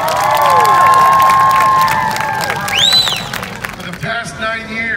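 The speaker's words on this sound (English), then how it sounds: "Big round of applause for him." A school crowd of children cheers and applauds for the school's plant manager, with high shrill shouts and whoops over clapping, loud and close at first, then thinning into scattered voices.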